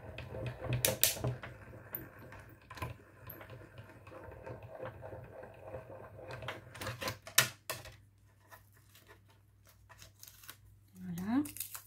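Paper is cut with scissors for a handmade thank-you card, giving close, faint snipping and crisp clicks in irregular bursts, with soft rustling and handling noises between them and quiet talking at times.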